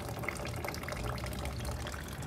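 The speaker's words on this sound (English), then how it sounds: "Okay, so the water's coming down and I see some silt in the water" Water flows down through a bed of pebbles and silt in a classroom earth science demonstration, making a steady, soft trickling rush that continues evenly throughout.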